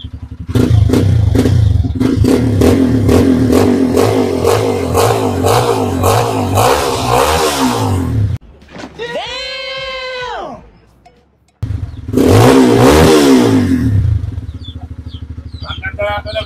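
A Kawasaki KLX 150 trail motorcycle fitted with a homemade twin exhaust pipe, idling with a rough loud clatter and revving repeatedly. The revs rise and fall in several sweeps, drop briefly near silence, then return loud.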